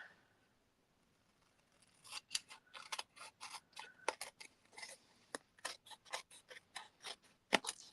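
Scissors trimming paper for a handmade card front, a run of crisp, close snips in a quick uneven rhythm after a short quiet start, with no talk.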